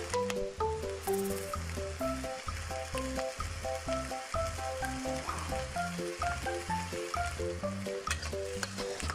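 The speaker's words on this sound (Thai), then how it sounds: "จากนั้นนะคะเราก็จะผัดจนเครื่องปรุงรสละลายเข้ากันดีค่ะ" Wide rice noodles stir-fried with oyster sauce, light and dark soy sauce and sugar, steady sizzling under repeated scraping and tossing, with tonal music playing over it.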